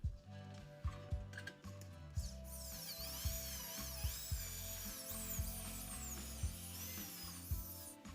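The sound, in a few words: drilling holes in the edge of an aluminium piece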